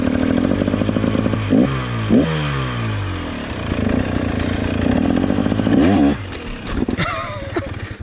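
A 2024 KTM 300 XCW dirt bike on single track, its engine revving in repeated rising and falling bursts, loud and close, with sharp throttle blips and changing pitch throughout.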